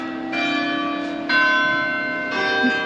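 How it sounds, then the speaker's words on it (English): Town hall bells chime the quarter hour at 9:45, with three ringing strikes a second apart, each leaving a sustained, overlapping tone over a quiet outdoor background. "You can hear the bells of the town hall chiming 9:45."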